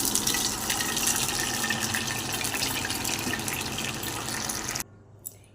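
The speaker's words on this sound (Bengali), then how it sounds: "এবার আমি এটার মধ্যে একটু জল অ্যাড করে দেবো।" Water pours steadily into rice dhokla batter for almost five seconds, a continuous close splashing stream that stops abruptly, followed by near silence and one small tap.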